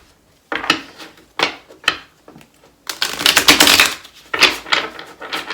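A tarot deck is shuffled close by in irregular bursts of crisp card clicks and slaps. A longer, denser flurry comes in the middle, with no talking.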